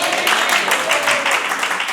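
Congregation in a Spanish-language church service clapping together after a collective amen, a dense, steady spread of hands applauding throughout with voices mixed in.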